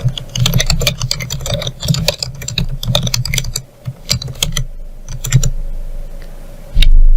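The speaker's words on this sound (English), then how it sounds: "click Enter for a double space in between and type in the subtitle" Rapid typing on a computer keyboard with dense, uneven bursts of key clicks, a few louder Enter-key strikes, close and clear with no talking.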